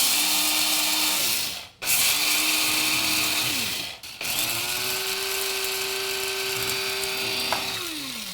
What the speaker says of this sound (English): I'm just going to grind it in my spice grinder here quickly first.